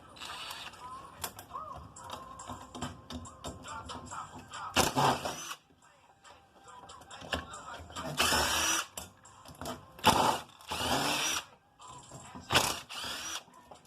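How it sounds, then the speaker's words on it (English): An impact driver backs screws out of an aluminum heat sink in a workshop, firing in several loud, rattling bursts of hammering whir separated by quieter pauses, close to the microphone. "Gotta love an impact driver, y'all. It's quick work of a lot of stuff."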